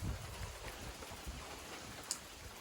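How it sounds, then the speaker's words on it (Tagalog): Steady rain from a typhoon patters down in a soft, continuous hiss, with occasional heavier drops striking a surface nearby. "Walay undang ang ulan."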